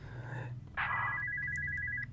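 A telephone rings in the horror video game Spooky's House of Jump Scares, a sharp electronic trill that starts abruptly and warbles steadily for over a second, close and clear.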